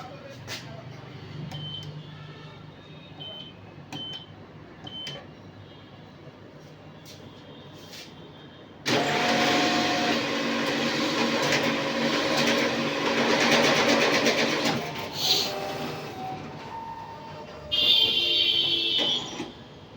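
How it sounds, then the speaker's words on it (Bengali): A Union Bank of India ATM whirs and clatters mechanically as it counts and pushes out cash, a long steady grinding run followed by a second short burst, with a voice talking nearby. "এবার টাকার ঢাকনা খুলবে।"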